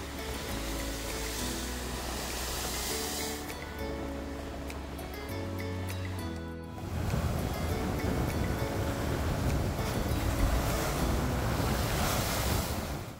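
Ocean surf pounds and churns continuously at Devil's Churn on the Oregon coast, a steady roar of breaking waves mixed with strong wind buffeting the microphone.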